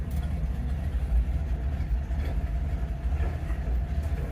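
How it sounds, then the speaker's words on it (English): A 1962 Mercury Comet backs up slowly, its engine giving a low, steady rumble close by with a faint uneven pulse and no talking. "Alright, here she goes. She's backing up."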